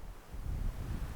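Low, rumbling gusts buffet the microphone in a steady, blustery roar with no voices.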